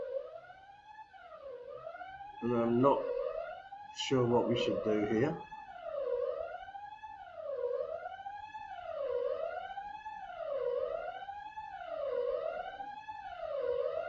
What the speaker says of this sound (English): the fire alarms have gone off in the building